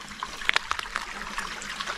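A small, natural forest creek trickles steadily, with soft dribbling and a few brighter splashy plinks over a quiet, continuous flow.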